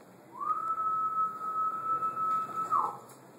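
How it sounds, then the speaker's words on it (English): A periodical cicada's mating call, a single steady buzzing tone held for roughly two and a half seconds before dropping off at the end, fairly clear against a quiet background. "This cicada makes a mating call that sounds like this."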